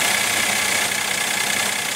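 A 2015 Mercedes-Benz E350 with a 3.5-liter V6 idles, giving a steady, close hum with a faint rough texture and no voices over it.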